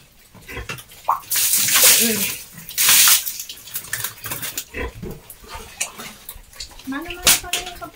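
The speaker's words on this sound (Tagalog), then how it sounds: "pinapaligo ko sa mga alaga ko kasi sarili naman namin yung tubig" Water splashing and pouring while pet pigs are bathed on a rural farm in La Union, Philippines, with bursts of gushing water, pig grunts and squeals, and a person talking over it.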